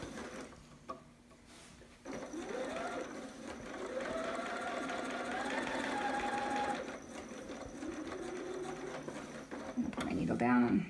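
A sewing machine stitches the bodice of a romper, running in a steady mechanical whir for several seconds at moderate volume, with a voice talking over it.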